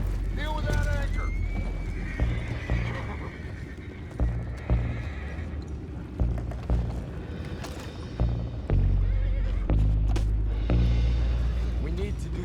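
Horses in Red Dead Redemption 2 whinny and neigh loudly near the start, then hooves clip-clop in irregular heavy thuds through the rest, with voices talking over them.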